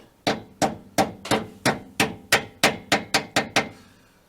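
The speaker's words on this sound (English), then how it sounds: "it's easier to have a little hammer to knock this clip on in where it belongs" A small hammer taps sharply about twelve times, knocking a parking brake cable clip into place, in a steady rhythm, close and loud, the blows coming slightly faster toward the end.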